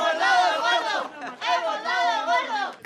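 Crowd of Spanish lottery winners cheering, loud close chorus of overlapping voices shouting and whooping joyfully in bursts.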